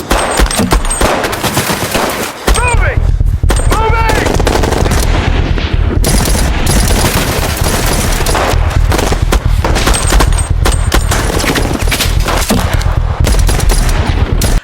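Sustained gunfire from a police shootout in an action film about a former special forces soldier, loud rapid bursts and single shots with booms layered over a dense dramatic soundtrack.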